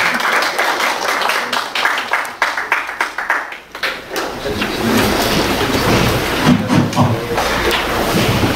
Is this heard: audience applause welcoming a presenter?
yes